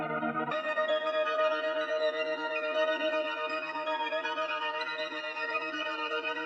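Keys pitched up an octave and run through effects in FL Studio play a dense, sustained chord texture with shimmering harmonics and a slight echoing wash, steady and full throughout.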